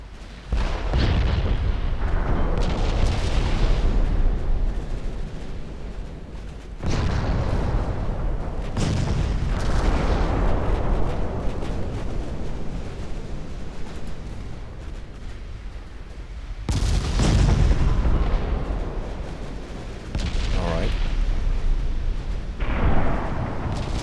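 Warships firing armor-piercing shells in the naval video game Ultimate Admiral Dreadnoughts: several heavy, booming salvos, each followed by long rumbling decay, spaced several seconds apart.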